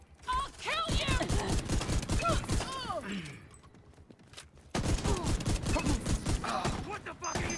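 Rapid machine gun bursts in an online video game, close and loud, firing in two long strings separated by a short pause, with voices talking over the shooting.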